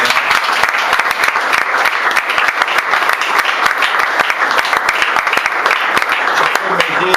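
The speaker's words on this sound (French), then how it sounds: "On acclame le Seigneur." A church congregation at a Sunday service applauds to acclaim the Lord, a dense and loud, steady wave of clapping from many hands filling the whole stretch, with voices mixed into the crowd.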